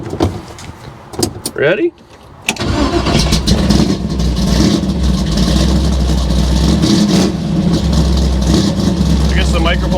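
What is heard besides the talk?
1964 Chevy II gasser engine starting and idling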